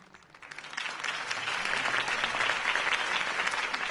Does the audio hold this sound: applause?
yes